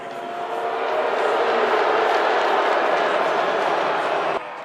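A deafening crowd roar fills an ice hockey arena during a wear-white college game, a loud sustained wall of cheering that swells and holds for several seconds before dropping off abruptly.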